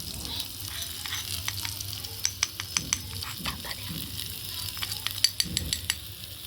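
Spice paste for rui fish kofta sizzles steadily in a hot pan, a close continuous frying hiss broken by repeated sharp clicks and scrapes of a stirring spoon.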